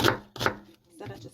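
A small onion is chopped with a knife on a cutting board in three close, sharp thuds, with a brief pause before the last.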